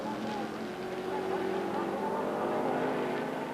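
Sports sedan race cars lapping the Baskerville circuit in 1978, a steady loud engine drone holding throughout with a commentator talking over it.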